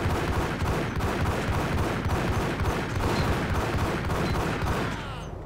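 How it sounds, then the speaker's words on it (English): Rapid shotgun gunfire in the video game Max Payne, with dense, repeated booming blasts in quick succession, loud and close, easing slightly at the very end. "Let's use a bunch of shotguns this time around."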